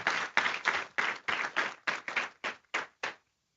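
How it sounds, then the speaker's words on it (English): Audience applause at a poverty-reduction policy event, heard as a series of about a dozen distinct, evenly spaced bursts of clapping that fade into silence at the end. "Will you join me in giving them a round of applause?"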